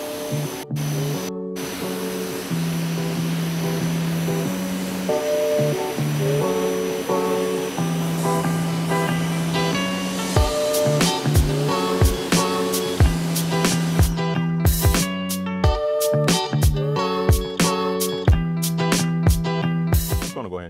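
Continuous hiss of a water spray rinsing a motorcycle tour pack, close and fairly loud, with a machine hum underneath and repeated knocks and clatters in the second half.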